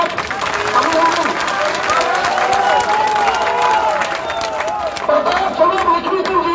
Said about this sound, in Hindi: जोरदार तालियां अभिनंदन